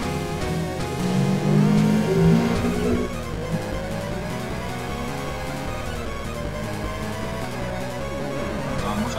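A Porsche 959 engine in Test Drive Unlimited accelerates hard through a corner at full throttle, a steady mid-pitched roar with tonal whine that swells early, then holds alongside game music, without any voice.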